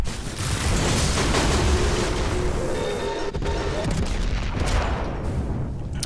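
Destiny 2 combat with a grenade explosion and gunfire, a loud continuous wash of blasts and shots that ends in rumbling impacts and scattered bangs.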